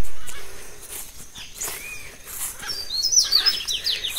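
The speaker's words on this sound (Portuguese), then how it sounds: "As araras ali." Macaws call on a rural farm, several short high chirps and squawks at a moderate distance over soft outdoor ambience, growing busier toward the end.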